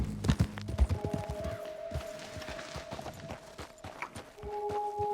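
Horse hooves in Red Dead Online clip-clopping at a steady gait while riding, a rhythmic train of close, moderate hoof thuds with faint tonal game sounds behind.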